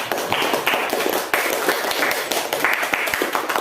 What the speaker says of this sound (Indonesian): Tepuk tangan untuk Yulia